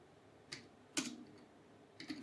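A computer keyboard types a command in a few sparse, crisp key clicks, close and quiet, with short gaps between presses and no talking.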